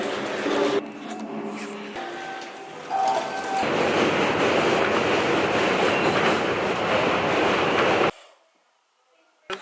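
A subway train rumbles along the rails at close range, a loud steady roar with rhythmic clatter filling most of the stretch before dropping away abruptly near the end, with brief onboard sounds at the start.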